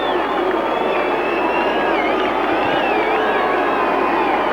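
Rugby league grand final crowd booing as the Eastern Suburbs side takes the field, a loud, continuous, dense roar of massed voices with wavering pitched calls riding on top.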